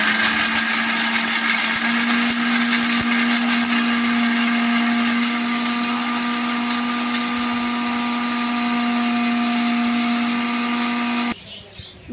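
A mixer grinder runs continuously, grinding roasted chickpeas into powder, a loud, steady high-pitched motor whine with a constant tone that cuts off abruptly near the end, no talking.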